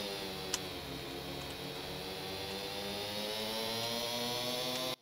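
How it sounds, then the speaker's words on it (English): Engine of a four-wheel advanced car in the game Stormworks, a steady droning, buzzy whine with layered harmonics that holds level for about five seconds before cutting off abruptly. "let's listen to the engine sound"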